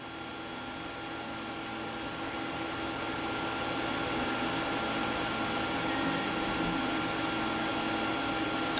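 A 3D printer's extruder feeds 180 millimeters of filament during e-step calibration, giving a steady, continuous mechanical whir and hum at constant loudness with no pauses and no voices.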